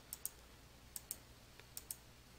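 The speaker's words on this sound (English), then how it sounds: "clicking the Next button to continue" A computer mouse button clicks in three quick pairs, crisp but faint, against a quiet room with no talk.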